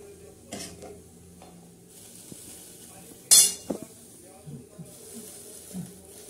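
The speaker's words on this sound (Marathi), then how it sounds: "आता एकदा हलवून घेऊया आपण मस्त पैकी छान अशी दोडक्याची भाजी" Ridge gourd sabzi being stirred in a pan, with soft scraping and a brief sharp clink of the spoon partway through, under low background noise and occasional faint voices.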